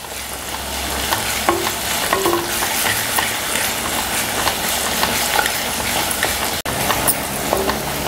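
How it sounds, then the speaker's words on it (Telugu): Ginger garlic paste frying with onions in a pan for cauliflower masala curry, a continuous close sizzle with the scrape and clatter of a spoon stirring. "ఇప్పుడు 1 చెంచాడు అల్లం వెల్లిపాయ పేస్ట్ వేస్తున్నాను చూడండి. అది కూడా వేసిన తర్వాత మనం బాగా వేపుకోవాలన్నమాట."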